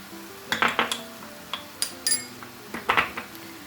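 A spoon clinks against a bowl while pastry filling with onion and red pepper flakes is mixed, a series of light, close scraping knocks in uneven bursts.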